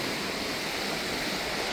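Lake waves breaking on the shore of Northerly Island in Chicago, a close, steady broadband wash of surf and spray filling the whole stretch with no voices.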